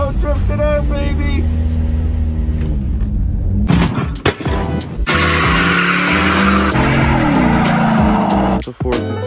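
An old car with a 455 big block V8 drifting on ice during a side-by-side ice race with cheap cars. The engine roars loudly and continuously, with tire sliding and skid noise, and excited shouting voices on top.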